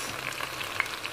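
Ginger paste frying in a pan for chicken curry gives a steady, close hiss with a few faint crackles and one brief sharper pop.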